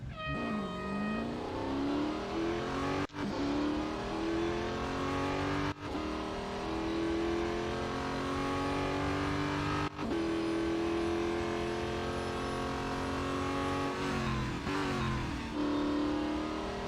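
A race car in Real Racing 3 runs an autocross at Mount Panorama, its engine droning loud and close. The engine pitch sweeps up through the gears, with brief sharp drops at each shift, and there is no talk.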